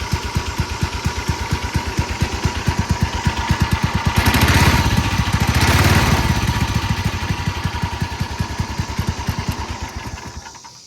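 A Massey Ferguson lawn mower's pull-start engine idles in neutral with a steady, loud, close chugging pulse that swells briefly midway before settling back.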